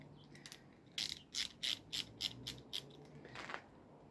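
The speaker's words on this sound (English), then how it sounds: "And then it, like I say, ratchets so you can choose unlock or lock mode." Aldi multi-bit ratchet screwdriver clicking in a few crisp bursts of ratchet pawl ticks, close and fairly quiet, with no talk.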